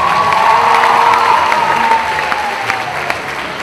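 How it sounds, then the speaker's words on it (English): Audience applause for a 2023 homecoming court at a school homecoming event, a steady dense clapping from a large crowd with some cheering, holding throughout and easing slightly toward the end. "One more round of applause for our 2023 homecoming court."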